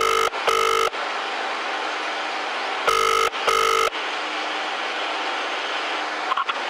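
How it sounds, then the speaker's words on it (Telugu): An outgoing phone call rings back in two paired tone bursts under constant steady hiss, then the line goes quiet. "పటాన్చేరి ఎమ్మెల్యేకి ఫోన్ చేస్తున్నా."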